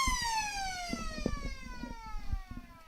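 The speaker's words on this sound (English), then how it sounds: "you are about to hear the siren blast for three-quarter time" A siren sounds for three-quarter time at a Great Southern Football League match, Mt Barker Bulls versus North Albany, a steady harmonic wail holding through the clip while crowd noise and thumps rumble underneath.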